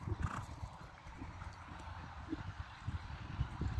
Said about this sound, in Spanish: Ahí lo ven, un caballo que tiene una acción bárbara.